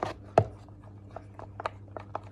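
Homemade puffy paint is stirred in a small container, giving soft, irregular scraping and tapping strokes, close and quiet, with one sharper knock near the start.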